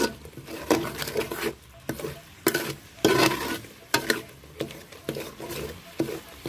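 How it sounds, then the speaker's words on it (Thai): Thai curry paste being stir-fried with coconut milk in a pan: a repeated scraping stir with soft sizzling, coming in rhythmic strokes about every second, close and alone without talk. "ผัดไปเรื่อย ๆ แล้วก็ใส่กะทิลงไปเรื่อยๆ จนมันออกเงา"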